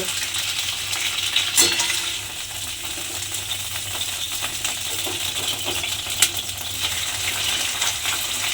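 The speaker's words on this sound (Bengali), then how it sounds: "একটু হালকা করে পটলের খোসাটা ভেজে নিলেই হবে।" Pointed gourd peels fry in hot oil with a steady, even sizzle throughout, broken by a couple of sharp clinks of a utensil against the pan.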